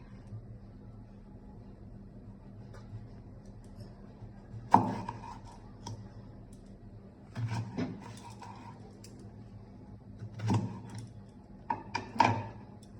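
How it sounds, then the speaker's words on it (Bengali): A knife cuts through eggplant on a kitchen board: four or five separate soft chops, some doubled, spaced several seconds apart over a quiet background. "প্রথমে বেগুনটাকে কেটে নেব।"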